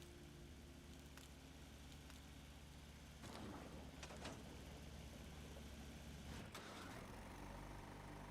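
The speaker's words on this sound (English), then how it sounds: "Listen to the way the engine sounds." A vehicle engine runs in Fallout 4, a low, faint, continuous idling rumble with a few brief clicks and bumps over it, and no voices.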